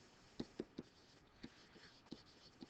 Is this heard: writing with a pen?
yes